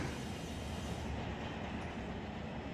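A train rumbles steadily in the Run 8 Train Simulator game, on the Trona Railroad at Searles Valley Minerals, a continuous dense broadband roar with no distinct clacks, loud and unbroken throughout.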